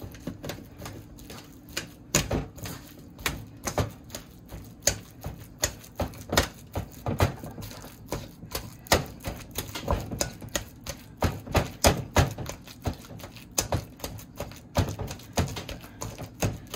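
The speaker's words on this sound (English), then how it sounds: "I'm gonna crush my banana with the whisk" Four large ripe bananas are crushed with a whisk in a bowl while making banana bread, producing a long run of sharp, irregular tapping clicks, close and fairly loud, with no speech.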